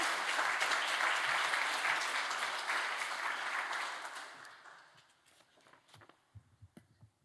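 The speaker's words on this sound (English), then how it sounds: "join me in welcoming all three panelists with a round of applause" An audience at a panel talk applauds loudly, then the clapping thins and fades, leaving scattered claps, footsteps and shuffling noises.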